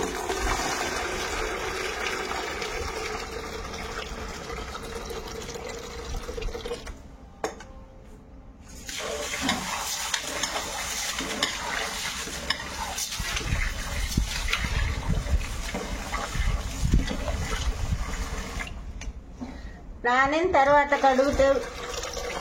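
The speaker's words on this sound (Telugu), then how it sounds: "ఇప్పుడు దీన్ని కడుగుతున్నానండి. బాగా క్లీన్ చేస్తున్నాను." Millets are washed by hand in water, with continuous sloshing, swishing and running water and a few short pauses. A voice talks over the washing now and then.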